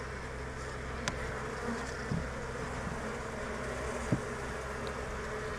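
Honey bees buzz steadily at a beehive, a dense continuous hum from many insects close by, with a few brief louder passes as individual bees fly near.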